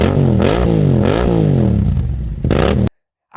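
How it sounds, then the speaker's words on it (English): Yamaha MT-07 motorcycle with an Akrapovic exhaust revs hard several times in close succession, loud and close, the engine note rising and falling before cutting off abruptly. "The sound with this Akrapovic exhaust"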